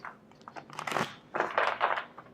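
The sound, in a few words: shuffling tarot cards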